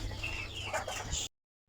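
Large hens on a poultry farm cluck softly in short, close bursts for about a second before the sound cuts to silence.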